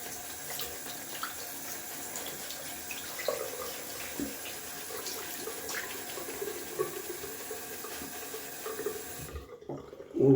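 Water runs steadily from a tap into a sink for wet shaving, a continuous close splashing stream lasting about ten seconds before it cuts off, with no voices over it.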